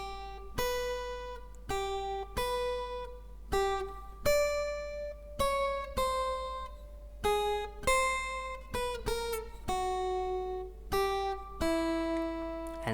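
Slow fingerstyle acoustic guitar picks out the Harry Potter theme as single plucked notes, mostly on the high string, each ringing and fading before the next, played alone at an even, unhurried pace.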